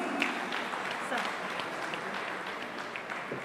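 A convention audience at a temples expo in Tirupati claps to welcome Dr. Suresh Havare, a soft, even spread of applause in a hall that lasts a few seconds.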